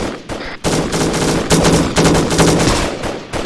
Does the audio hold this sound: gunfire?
yes